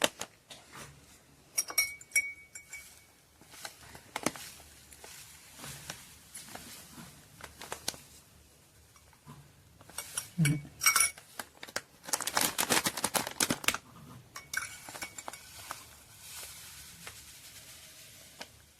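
Spoon clinking and scraping against a container while syrup is mixed in, irregular light taps and clinks with a denser run of clattering midway, close and fairly quiet.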